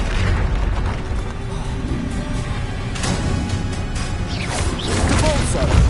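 Bombarda blasting spells go off in the Hogwarts Legacy video game, giving dense rumbling booms and crashes that run continuously and loudly with a brief surge near the end.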